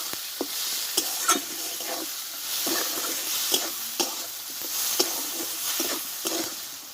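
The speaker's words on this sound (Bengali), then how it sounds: "আর দেবো হলুদ গুঁড়ো আর দেবো একটু জিরে গুঁড়ো এই মশলাটা একসঙ্গে ভালোভাবে কষে নেব" Turmeric and cumin powder being fried together in a pan for a cauliflower curry, with a steady close sizzle and repeated sharp scrapes and taps of stirring throughout.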